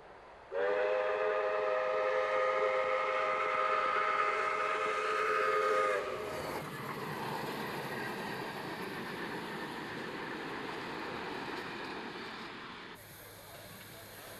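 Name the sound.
steam train passing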